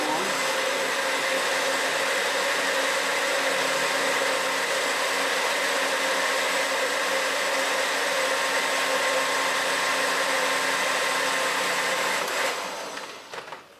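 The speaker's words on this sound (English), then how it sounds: "And what we'll do is we will blend it." A heavy-jarred blender runs on high speed, blending raw vegetable juice with a loud, steady whir that continues throughout before it cuts off near the end.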